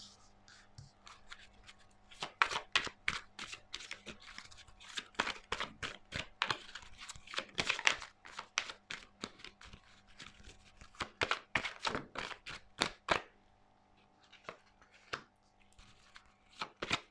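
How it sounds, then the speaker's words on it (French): Tarot cards are shuffled by hand close by, producing quiet bursts of rapid papery riffling and snapping clicks in irregular clusters with short pauses between. "Pourriez-vous faire sauter les cartes s'il vous plaît?"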